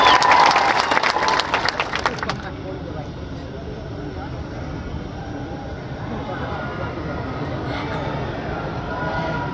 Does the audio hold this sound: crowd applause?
yes